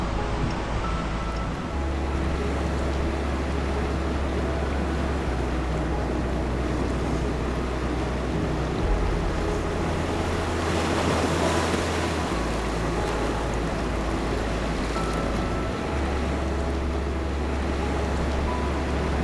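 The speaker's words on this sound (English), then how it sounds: "now I'm on the beach and it is just glorious here" Surf rolls in on a Costa Rica beach, a broad steady wash of breaking waves close by with wind buffeting the microphone, no talking.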